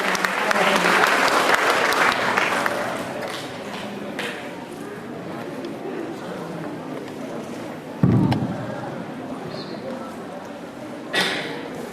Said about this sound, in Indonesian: kita kasih aplaus untuk Prof. Heri untuk menyampaikan materi.